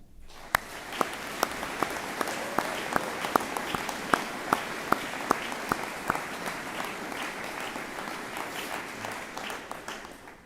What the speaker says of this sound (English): So let's give the families a big round of applause.